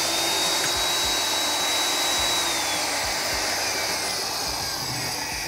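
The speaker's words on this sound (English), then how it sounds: "we've just drilled 1 1/16 diameter hole through about 1/2 inch thick structural steel" A Hougen HMD 904 magnetic drill press cuts a 1 1/16 inch hole through half-inch structural steel, its motor whining loud and steady with a high drifting tone and a low grinding load underneath, no talking.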